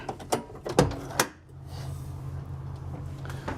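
A few sharp mechanical clunks and latch clicks in quick succession as the emergency escape door of a 2024 Newmar Dutch Star 4325 motorhome opens, then a low steady hum carries on underneath.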